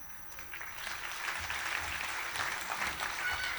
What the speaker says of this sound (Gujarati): મહેરબાની કરીને બધા તાળી પાડજો